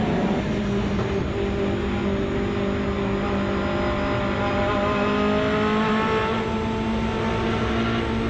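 Hot hatch race cars, including a little Honda Civic, race at Silverstone, engines droning loudly at high revs with rising and falling pitch as they push through corners, no voices over the noise.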